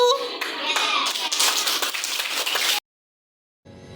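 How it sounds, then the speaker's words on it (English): Schoolchildren in a classroom clap in unison, a close, loud burst of many small hands with distinct rhythmic claps and some children's voices mixed in, ending abruptly after nearly three seconds, followed by silence and faint noise. "Clapping for you."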